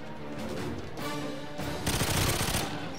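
Game gunfire from GoldenEye 007 Reloaded on PS3 in a hectic shootout, with several bursts of rapid shots that grow louder and denser toward the end.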